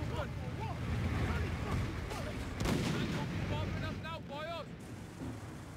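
Distant gunfire and artillery booms rumble through a Company of Heroes 3 battle as Allied tanks roll in, a steady dense wash of combat noise with faint whistling tones, no clear individual shots standing out.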